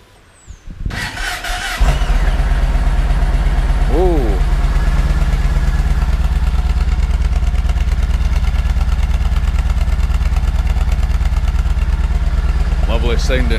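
A Yamaha MT-01 motorcycle, fresh from a spark plug change and K&N air filter swap, cranks and fires after about a second, then settles into a steady, loud, throbbing idle. A brief squeal rises around the fourth second, and a faint voice comes in near the end.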